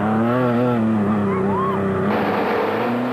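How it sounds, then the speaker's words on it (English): A home-built FFCO off-road race car competes in the 2004 Lichtenburg 200. Its loud, close engine drones continuously with a shifting, rising and falling pitch, and the tone changes partway through. "Frans Skitter and Fred Wellman were next to come under starters' orders in the rather unusual-looking home-built FFCO"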